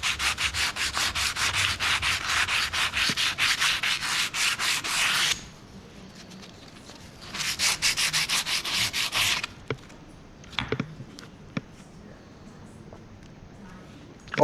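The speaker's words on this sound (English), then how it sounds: "take this gasket scraping knife and remove the paint along the edges that has crept in" A gasket scraping knife scrapes paint off the edges of a cover from an overhauled compressor over 20 years old, in two sustained rasping bursts separated by a pause, followed by scattered faint clicks and taps.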